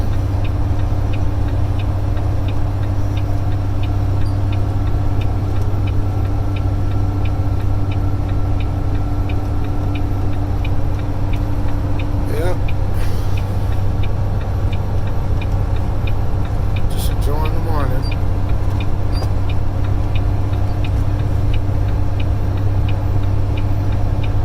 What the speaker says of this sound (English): that growling noise. That's the compression brake.